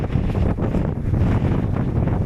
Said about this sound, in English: I don't know if you can hear me because the wind, not right here. God, it's windy.